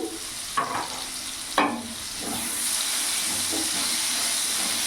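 Potato pieces seasoned with salt and turmeric frying in a pan, a steady close sizzle and hiss broken by a couple of sharp stirring scrapes early on, then settling into an even frying hiss.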